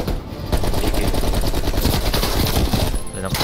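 AK-47 automatic gunfire in Call of Duty: Black Ops Cold War, a dense, rapid stream of shots running loud and steady for several seconds, with game sounds mixed in.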